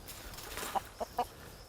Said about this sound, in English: I hear chickens in here still.